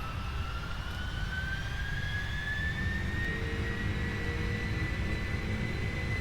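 Jet engines of a PMDG 747-400F KLM Cargo freighter in the Prepar3D v5 flight simulator, departing Miami on the takeoff roll: a loud, steady roar with a thin whine that climbs in pitch throughout.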